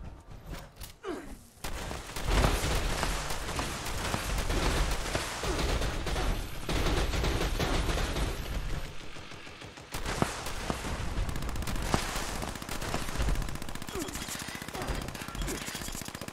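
Gunfire in the video game Fallout 76: loud, dense automatic bursts and rapid shots rattling almost continuously for most of the clip, with only brief lulls.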